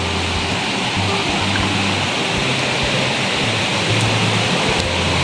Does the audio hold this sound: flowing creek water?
yes